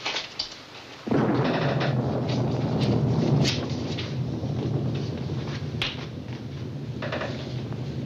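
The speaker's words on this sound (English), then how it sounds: "there started to be a little bit of a thunderstorm" A deep thunder rumble suddenly rolls in and lingers, slowly fading under a steady wash of storm noise, with a few faint knocks.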